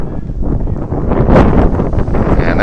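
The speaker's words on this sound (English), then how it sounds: "Trying to make sure you can hear me here over the big gust of wind we're getting here in Edina." A strong gust of wind buffets the microphone at an outdoor American Legion baseball game in Edina, a loud, continuous rumbling roar that swells in the middle and holds steady, with no voice over it.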